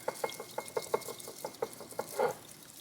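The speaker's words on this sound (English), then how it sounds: "we're just whisking as much as we can" Bamboo whisk beating matcha tea in a bowl, a quick rhythmic run of soft close swishing and tapping strokes, several per second, without talk.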